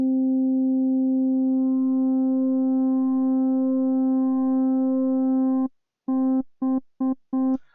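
A pure synthesizer tone, raised an octave and fine-tuned, holds steady and unbroken for several seconds, then cuts off into a run of short stuttering pulses.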